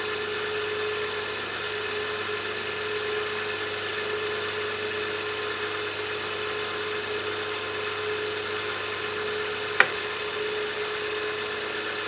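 Wood lathe running steadily through a finishing cut, a constant high whine with a mechanical hum throughout, one brief sharp click near the end.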